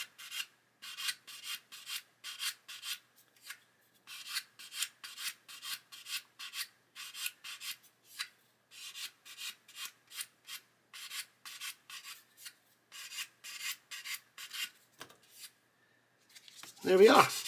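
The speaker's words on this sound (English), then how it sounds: "just sanding to get rid of that step." Sanding a seam step on a 1/24 scale Airfix Spitfire Mk.IXc plastic model kit, a close run of short rhythmic abrasive strokes in steady bursts with brief pauses, ending in a louder rustle.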